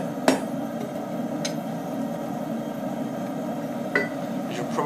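A hammer strikes hot steel while forging tongs, two or three sharp metallic blows spaced apart over a low background hum, with no talk.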